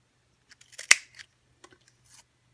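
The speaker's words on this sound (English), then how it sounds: "take a little star punch" A small star-shaped paper punch from Daiso snaps through paper once, a single sharp crisp click with faint handling rustles around it, close and quiet.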